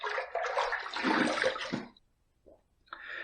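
Water runs and splashes as a razor and face are rinsed after a shave, a burst of nearly two seconds, then a short splash and more water starting again.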